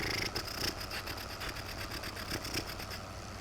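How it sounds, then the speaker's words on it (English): Small diesel engine idling in Farming Simulator 15, a rapid, even mechanical chatter and rattle that stays steady and close for a few seconds. "That little diesel sound."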